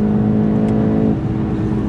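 A VW Golf TCR with a deep-toned engine and DSG gearbox pulls under throttle, a steady loud droning rev from inside the car that dips slightly partway through, no voices.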